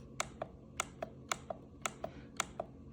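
Keys are pressed on the full-size keyboard of a 2023 Lenovo IdeaPad Slim 5 laptop, about a dozen crisp, close clicks in an uneven typing rhythm over a quiet background, with no speech.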